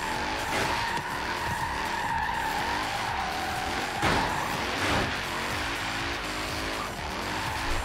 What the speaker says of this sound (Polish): dźwięk jest fantastyczny tego samochodu.